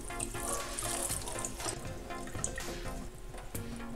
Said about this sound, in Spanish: Frote la quinoa para ayudarle a soltar la sustancia amarga.